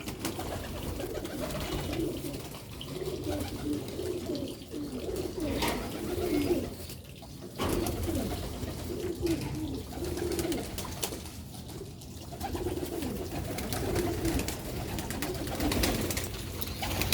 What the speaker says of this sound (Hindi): ਤੇ ਬਟੇਰੇ ਬੱਚੇ ਵੀ ਨੇ